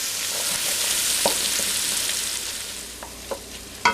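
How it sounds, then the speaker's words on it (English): Sausage being broken up and browned in bacon fat for red beans and rice, a steady close sizzle with a few soft scraping stirs that get more distinct toward the end. "We're just going to break that up in the bacon fat, let it start to brown"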